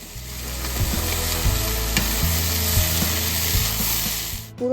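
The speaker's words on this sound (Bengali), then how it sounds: "দমে চলছে নেড়ে চেড়ে ভাজাভাজি" Bitter gourd stir-fries in a pan with steady loud sizzling throughout, with occasional scraping clacks of stirring; no voices.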